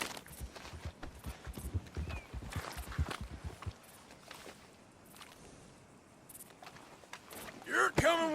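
Horse hooves clip-clop at a walking pace in Red Dead Redemption 2, a run of close, hollow knocks that stops, followed by quieter ambience and a short burst of louder noise at the end.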